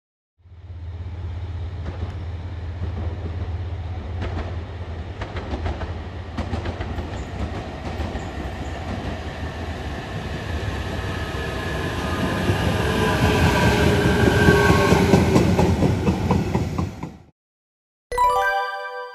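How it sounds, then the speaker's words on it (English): A JR Kagoshima Line local train passes close by, its steady rolling rumble and rail clatter building louder toward the end before cutting off sharply, followed by a brief separate sound. "Local train."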